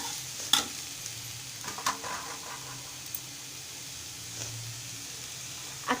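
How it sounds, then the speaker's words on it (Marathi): Jaggery and grated coconut stirred together in a pan, giving soft scraping and shuffling strokes with a few sharper spoon clicks against the pan, quiet and close. "गूळ खोबरं आणि गूळ आता एकजीव करून घेणार आहे व्यवस्थित"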